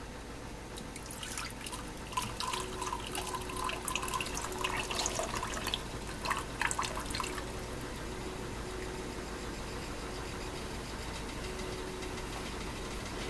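Flavored water and grease poured off from a roasting pan of whole chicken, a trickling, dripping stream that rises and spatters for several seconds before fading back to a quiet kitchen hum.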